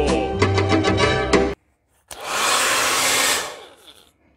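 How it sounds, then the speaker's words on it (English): A hair dryer, used to dry stones for intarsia work, kicks on after a brief tonal sound and a short pause, blowing loudly and steadily for about a second and a half before cutting off and winding down. "So hairdryer away."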